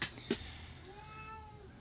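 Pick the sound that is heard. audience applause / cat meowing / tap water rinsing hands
cat meowing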